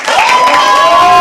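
A short, loud burst of cheering and whoops from an enthusiastic audience at a live poetry open mic at The Habitat, with clapping mixed into the crowd noise.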